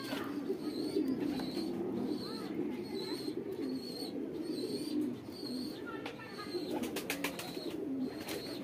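Several pigeons of the White Dragon bloodline Madrasi breed coo steadily in soft, repeated low throbs close by, with faint chirps and light clicks over a murmuring background.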